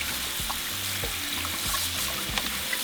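Running water rinsing dried chiles in a kitchen sink, a steady close hiss of flowing water with faint splashes.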